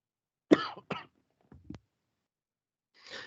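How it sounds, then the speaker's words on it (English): A person coughs twice in quick succession, close and fairly loud, followed by a couple of faint throat sounds and a softer breathy cough or exhale a moment later. "I feel a cough coming on."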